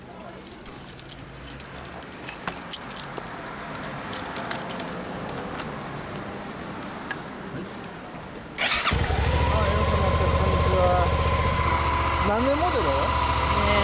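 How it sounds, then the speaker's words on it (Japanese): After a stretch of quiet background and a brief question from a man, a Suzuki V-Strom 650 motorcycle engine starts abruptly and settles into a loud, steady idle close by. "エンジン音聞かせてもらえる？"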